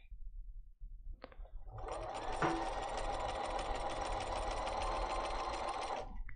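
A sewing machine stitches quilt fabric in a workshop setting, starting after some faint handling noise and running at a steady, close, even whir for about four seconds.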